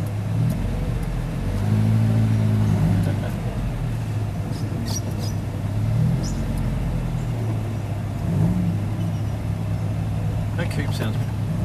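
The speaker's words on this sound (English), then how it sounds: "That coupe sounds good." A Holden Gemini coupe engine idling and revving at a car club cruise in Adelaide, a low steady rumble with a few swells of revs, heard close over outdoor background noise.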